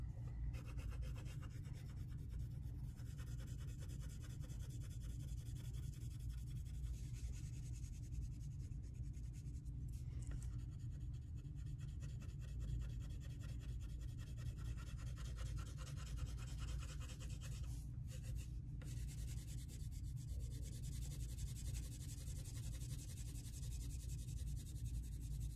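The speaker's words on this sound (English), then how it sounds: "I'm gonna try to erase it." An eraser rubs steadily over a heavily shaded pencil drawing on paper, producing a continuous close, soft scratchy friction that runs the whole time without pauses or voices.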